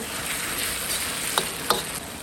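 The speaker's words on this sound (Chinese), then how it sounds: "一定要辣椒炒香" Chili peppers being stir-fried slowly in a wok for braised beef brisket: a steady broadband sizzle with a couple of sharp scraping clacks from a spatula, close and fairly loud, no voices.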